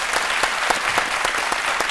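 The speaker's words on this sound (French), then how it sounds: "je souhaiterais qu'on puisse l'applaudir très très fort" Studio audience applause on a midday television show in Côte d'Ivoire: brisk, continuous clapping from a crowd, even and fairly loud from start to finish.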